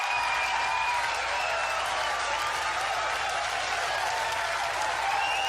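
Dense crowd applause fills the whole stretch at an even, sustained level, a steady wash of many hands clapping with scattered faint shouts.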